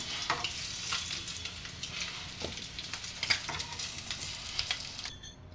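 Fenugreek seeds crackle and sizzle in hot oil in a pan, a close, steady frying hiss dotted with sharp pops and spits, with no one speaking.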